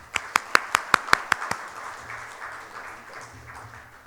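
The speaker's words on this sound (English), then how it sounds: "With big round of applause, please." Applause at an international tax conference in Dubai, seven loud even claps from one nearby person first, then scattered fainter clapping under murmuring voices.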